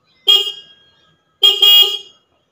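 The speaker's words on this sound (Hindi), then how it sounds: "तो अभी जस्ट मैं ना ये वाला मैंने हॉर्न किया" A newly fitted vehicle horn sounds two loud, close honks, one short and one longer, each ringing out cleanly against silence.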